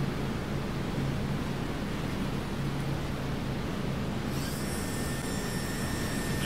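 B-17G bomber's four piston engines roaring at full power during takeoff in Flight Simulator X, a steady broadband drone, with a thin high whine of landing gear retracting joining near the end.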